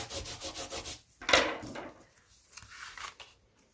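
Paper card stock rubbed down by hand to stick it in place, a soft scratchy rubbing in quick back-and-forth strokes, close and quiet with no talking.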